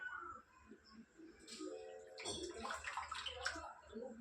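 Grated potatoes being squeezed by hand, wet watery squishing and dripping heard up close and fairly quiet, with irregular splashes and gurgles over a few seconds.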